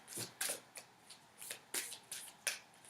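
Tarot card deck being shuffled by hand, a series of crisp riffling bursts repeating at a quick, uneven rhythm, close and fairly quiet with no talking.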